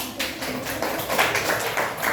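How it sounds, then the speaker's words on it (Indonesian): Grade 4 science class clapping for a pupil, a dense wash of quick claps from many hands at moderate distance, with little talk over it. "Kasih tepuk tangan untuk Asifa"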